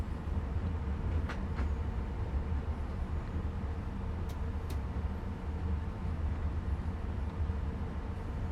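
A German BR 110 or 140 electric locomotive in a train simulator game rolling steadily along the line to a yard, a constant low rumbling drone with a couple of faint high squeals, no talk.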